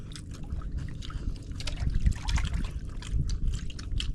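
Seawater sloshing and trickling steadily as items are washed by hand in the sea, a continuous close liquid wash with soft splashes and no talk.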